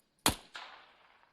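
A single rifle shot in the video game ArmA3 during a night mission in Finland: one sharp, loud crack followed moments later by a softer echoing report that decays slowly, with no talking.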